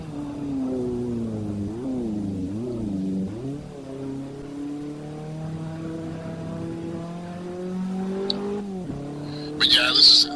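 A race car engine in the PC racing game Assetto Corsa climbs and drops in pitch through gear changes, sustained and fairly loud, with a brief burst of tire squeal near the end.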